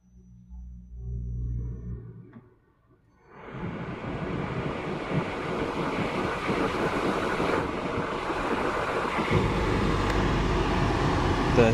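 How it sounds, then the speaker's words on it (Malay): A car engine idles with low rumble, then the air conditioning blower switches on and a loud, steady broadband rush of fan air fills the cabin, close and continuous. "Kita hidupkan enjin dan kita hidupkan aircon."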